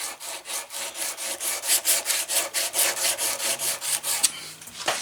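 Sandpaper rubs back and forth over the head of a budget leathercraft hammer in a steady rhythmic scratching, each stroke a soft rasp, close and moderately quiet, with no voices.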